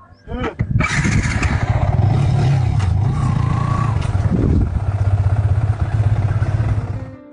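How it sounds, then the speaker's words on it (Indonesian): A loud motorcycle close by fires up and revs, then runs with a steady, rumbling engine note for several seconds while people talk nearby. "Awas motor itu."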